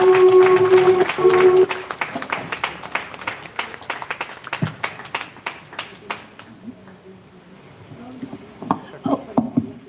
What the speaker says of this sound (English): Please give her an applause.